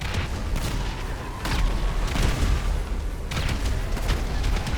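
Continuous rumbling blasts and crackling booms as a pickup truck explodes in GTA V, with a heavy explosion surge midway and repeated bursts rolling on loudly throughout.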